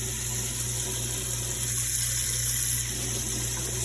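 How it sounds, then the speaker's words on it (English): Hot water runs from a faucet into a bowl in a steady, even rush that stays fairly quiet and unbroken throughout. "Turn the faucet on to hot."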